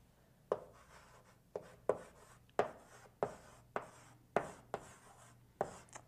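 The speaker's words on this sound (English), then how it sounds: "let me go and write my function in" A marker or pen writes a multivariable calculus function by hand, giving a series of sharp, close taps and short strokes at an uneven rhythm, about ten in all, against near silence.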